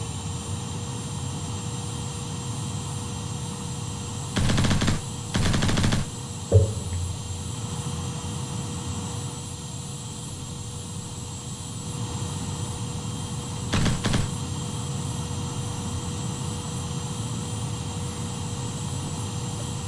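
A jet-powered Viggen-style microfighter in the Simple Planes video game roars steadily as it takes off, a sustained engine drone with a few brief bursts and a sharp click partway through.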